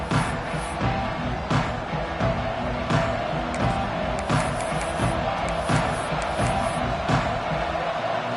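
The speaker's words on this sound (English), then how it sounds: "This crowd ready to make its presence known." Stadium crowd at a Nebraska Cornhuskers college football game roaring continuously, a dense loud wall of cheering and shouts with repeated swells.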